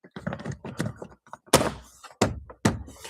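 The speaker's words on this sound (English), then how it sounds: "So let's put this trim piece back in here." A Nissan Altima interior trim piece is handled and pressed back into the dash, with soft plastic rustles followed by three sharp snapping thunks as its tabs seat.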